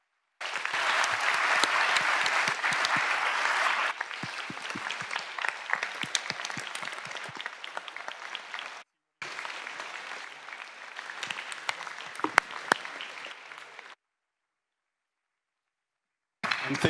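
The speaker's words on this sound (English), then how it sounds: "So can I please ask you to join me in a big round of applause to thank Eliot for a very good lecture." An audience claps after a public lecture on information disorder. The applause is loud and sustained, breaks off briefly, resumes, then fades to silence before a short final burst.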